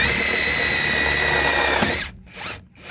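A power drill drives bolts into a zinc-plated iron U-bar on a small shed build, whining steadily for about two seconds before stopping, then a brief second burst of drilling.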